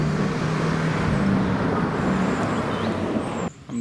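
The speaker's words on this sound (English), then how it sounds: "This loud car passing by scared him back into the bush." A loud car passes close by on a residential street lined with palm trees, a broad steady road roar that holds for several seconds before cutting off abruptly near the end.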